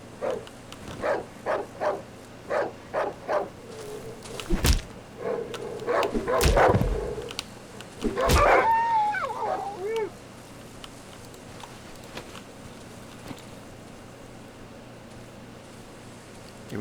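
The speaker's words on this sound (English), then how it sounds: "There was another dog." Dog barks and howls in the horror video game Darkwood, a run of short rhythmic barks followed by louder yelps and a wavering howl, fairly near, over a dark ambient drone.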